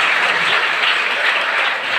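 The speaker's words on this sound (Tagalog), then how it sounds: "Kusog ka palakpak sa tumbuhin ng Diyos." Loud, dense applause from a church congregation during a worship service, sustained clapping filling the room with no pauses.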